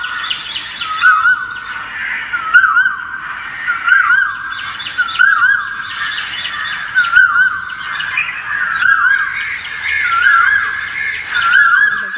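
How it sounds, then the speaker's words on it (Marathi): An Asian koel calls in the morning, over and over in a steady, repeating rhythm, loud and clear against a quiet background. "किती सुंदर कोकिळेचा आवाज सकाळी सकाळी येत होता"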